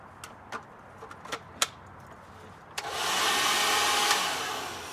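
Ryobi P1100 cordless battery blower spinning up after a few light clicks and taps, then a steady loud airy whoosh that holds for the final two seconds.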